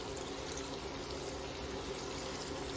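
Cold tap water running steadily over cooked plain pasta in a strainer, a continuous close hiss and splash with no talk.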